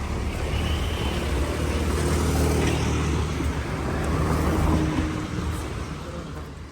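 A vehicle on the road rumbles past close by, the broad engine and tyre noise swelling and easing over several seconds with no talk.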